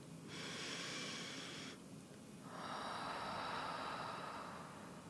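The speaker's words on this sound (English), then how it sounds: "Breathing deeply." Deep, slow breaths during a guided meditation, with a long airy inhale followed by a fuller exhale, close and alone with no talking.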